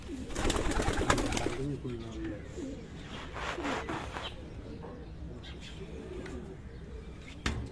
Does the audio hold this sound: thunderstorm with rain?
no